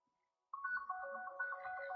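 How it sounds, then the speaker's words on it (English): A phone ringtone starts abruptly after a moment of silence, a clear repeating electronic melody ringing steadily and fairly loud to the end. "Why is everyone ringing?"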